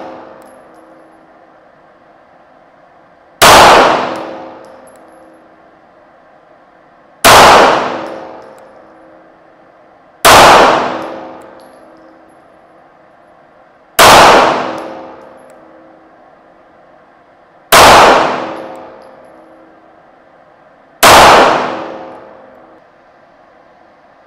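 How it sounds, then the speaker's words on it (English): Six sharp, loud shots from a compensated SIG 320 pistol with a red dot and Faxon barrel, firing 147 grain Golden Saber rounds, spaced evenly a few seconds apart, each ringing out and fading, with no talk. "Shooting this SIG 320, compensated with a red dot and a Faxon comp, I'm sorry, Faxon barrel, shooting 147 grain golden sabers"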